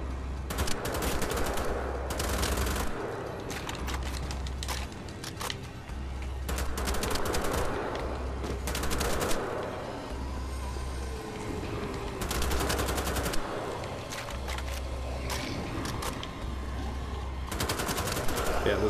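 Shotgun blasts and assault rifle bursts in the video game Wolfenstein: The Old Blood, loud and sustained, with repeated heavy shots and rapid volleys over a dense battle soundtrack throughout.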